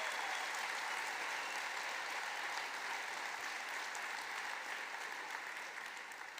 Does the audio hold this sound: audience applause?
yes